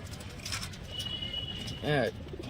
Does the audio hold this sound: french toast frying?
no